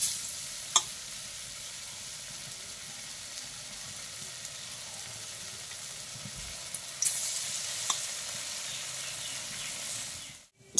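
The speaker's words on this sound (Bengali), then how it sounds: "এই দেখো সব বড়াগুলো এইভাবে ভেজে নিলাম" Round jackfruit fritters (bora) deep-fry in a wok with a soft, even sizzle. A few sharp clinks cut through, and the frying gets a little brighter toward the end.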